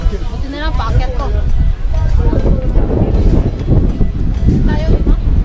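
Strong wind buffets the microphone outdoors in Tagaytay, making a loud, continuous low rumble with gusty surges while people talk over it.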